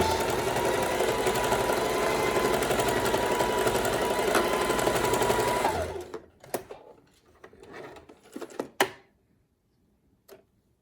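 A sewing machine runs a straight stitch on the inside of a stripper one-piece outfit, loud and steady for about six seconds, then stops and leaves a few clicks and handling knocks.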